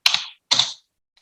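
Two short bursts of computer keyboard typing, close and clear, separated by a brief pause while a folder name is entered.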